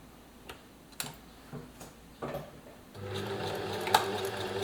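A serger overlocker starts sewing after a few scattered clicks and taps, its steady mechanical whir and stitching rattle running close and continuous through the last two seconds.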